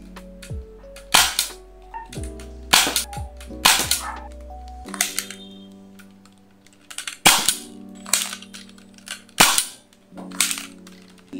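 An X-Shot Kickback toy blaster fires Dart Zone waffle tip darts, giving about eight sharp, loud cracks at irregular intervals with clicks of priming between them, close by and with no talk.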